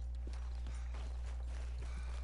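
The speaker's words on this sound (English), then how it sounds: "There's one horse" Horse hooves clip-clop in Red Dead Redemption 2, a faint, steady walking rhythm sitting over a constant low electrical hum.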